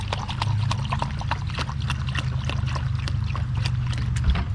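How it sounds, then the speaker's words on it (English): A container of organic plant spray formula is shaken briskly, giving a quick, regular run of rattling, sloshing taps over a low steady rumble, close and moderately loud. "I'm gonna need to shake that up a little bit better."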